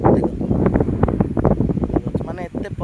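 Wind gusts across open village fields, a steady rough rumble buffeting the microphone throughout while a person talks over it.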